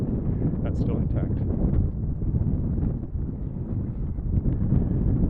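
Strong wind buffets the microphone on an outdoor walk in Regina, a low, rumbling, gusty roar that swells and dips throughout, with a person talking.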